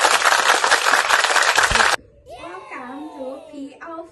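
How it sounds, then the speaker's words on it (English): An audience gives a big round of applause for the MC at a zoo-conservation podcast event, loud dense clapping for about two seconds that cuts off abruptly, followed by a voice speaking. "Please give a big round of applause."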